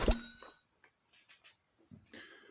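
A bright notification bell dings once, loud and ringing, then decays quickly into near silence with a few faint clicks and soft noises.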